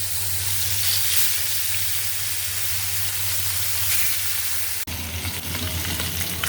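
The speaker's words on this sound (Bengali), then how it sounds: "আমার মাছ ভাজাটা শেষ।" Rohu fish frying in oil in a pan, a loud, continuous close sizzle over a low stove hum, broken near the end by a sharp clatter, after which the crackling turns rougher and busier.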